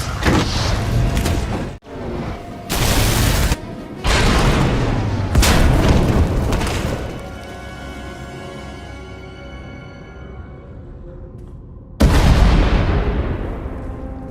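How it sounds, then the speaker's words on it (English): Several heavy booms and blasts from the video game Star Wars: The Old Republic hit in quick succession, each followed by a long, fading rumble, then one more loud explosion near the end, as a tunnel collapses. "We heard explosions, the tunnel collapsed."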